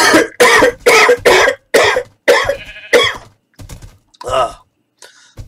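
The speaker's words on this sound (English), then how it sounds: "apologize for the coughing fit." Harsh, repeated coughs in a coughing fit from someone still recovering from illness, about eight close, loud bursts in quick succession followed by a few quieter coughs and throat clearing.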